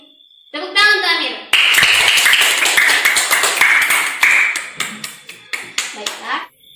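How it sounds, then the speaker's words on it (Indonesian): Classroom of children clapping hands together in a loud burst of overlapping claps that tapers into scattered claps, preceded by a brief spoken voice. "Tepuk tangan untuk Amir."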